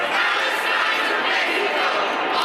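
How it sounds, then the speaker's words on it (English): Protesters crowded inside the U.S. Capitol building make a dense, continuous roar of many overlapping voices, loud and unbroken throughout with no single speaker standing out. "a crowd of people who got through screening okay inside the U.S. Capitol building today"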